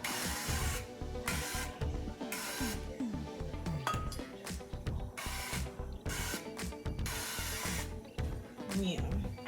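An 8x8 baking pan being lightly greased, short bursts of spray-like hissing alternating with clinks and handling clatter in a kitchen, with people talking intermittently.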